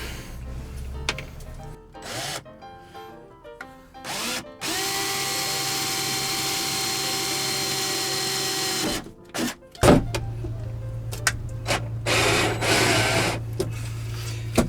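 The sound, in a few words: screws being driven in to fit van-x curtains, VW T6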